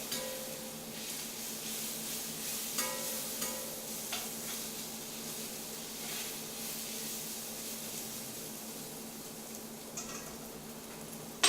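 Onions frying in a pan on the edge of burning, a continuous bright sizzle with occasional stirring scrapes and pops throughout.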